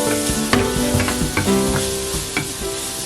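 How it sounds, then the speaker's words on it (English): Chopped peppers stir-fried with chicken in a hot pan for three-cup chicken, a loud close sizzle under rapid scraping and tossing strokes with clacks of the spatula. "Put all chopped peppers into the pan and start to stir all of them"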